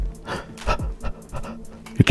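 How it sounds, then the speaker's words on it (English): Nervous heavy breathing close to the microphone, a few quick panting breaths in uneven bursts, ending with a sharp louder thump. "You can hear my breathing?"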